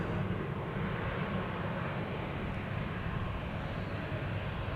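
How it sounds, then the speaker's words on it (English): A Malta Cargo Airbus A330 at Amsterdam Schiphol Airport gives off a loud, continuous engine roar with no pauses, heard alone and close by. "a double-chinned A330 from Malta Cargo, which you can probably pick up on the mic"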